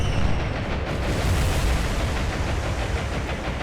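Bombs dropped from aircraft exploding in the naval warfare game War on the Sea, heard as a continuous heavy, rumbling roar of blasts that fills the whole stretch at a steady loud level.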